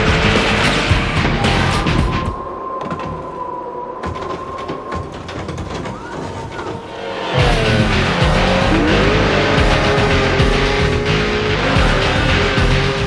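Interceptor vehicle from the Spy Hunter 2 video game, whose transforming car can become a motorbike, four-wheel drive or snowmobile, roars with loud racing engine drone, tire squeals and skids, easing in the middle before surging back strongly.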